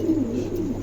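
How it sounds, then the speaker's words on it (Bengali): A male light silver pigeon, a new adult eight-feather bird, coos in a low, steady murmur that carries on without pause, close and fairly loud. "নতুন নিউ অ্যাডাল 8 খিলের কবুতর, নর কবুতর"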